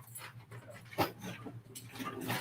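A dog pants and whimpers close by, with quick breathy pants and a brief higher whine partway through, over a faint background hum.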